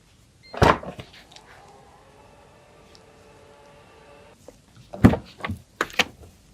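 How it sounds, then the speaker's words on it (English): The hands-free powered tailgate of a 2021 Citroën C5 Aircross opens with a sharp thunk, then a steady motor hum that stops at the end, followed by a few close clunks and knocks. "Just simply move your foot under the bumper and the boot opens automatically."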